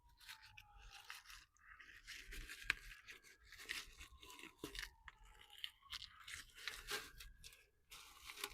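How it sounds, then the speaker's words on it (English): Masking tape being peeled off a car after spray painting the brakes gives irregular close tearing and crinkling rips in short bursts, with no one talking. "I'm going to start by just getting rid of all this tape from the outside."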